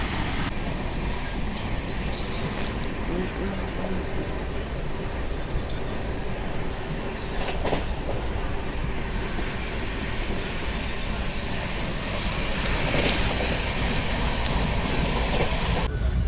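The Sampark Kranti express from Hazrat Nizamuddin to Tirupati running at speed, heard as a constant loud rumbling rush of wheels on track with occasional rattles and clanks throughout.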